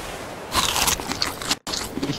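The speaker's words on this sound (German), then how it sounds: "Ich esse 5 Dodo-Eier..." Eating dodo eggs in the video game ARK: Survival Evolved: close, loud crunchy biting and chewing in quick bursts, with a brief silent gap near the end, and no talking.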